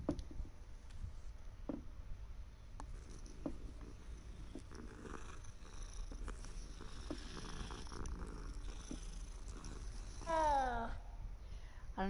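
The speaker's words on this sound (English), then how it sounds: "they actually put the sound of the purring from the cat" A cat purring through a game controller speaker in Hogwarts Legacy, a faint steady low rumbling purr continuing throughout under quiet game sounds, with a brief voice-like sweep near the end.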